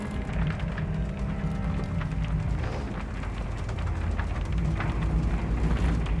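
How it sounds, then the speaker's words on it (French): A thunderstorm with rain rages in Shadow of the Tomb Raider, a constant roar of downpour and low rumbling wind, loud and dense throughout with no voices. "J'aime pas cette tempête."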